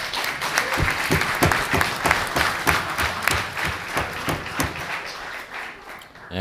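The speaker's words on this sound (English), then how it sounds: "One more round of applause." Steady applause from an audience at a township committee meeting, with dense clapping filling the room. It holds at a fairly even level throughout and fades slightly near the end.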